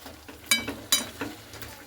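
Chicken and tomato being stirred in a pan over a gas flame, with soft sizzling underneath and a few sharp scrapes of the spoon against the pan, close and moderately quiet.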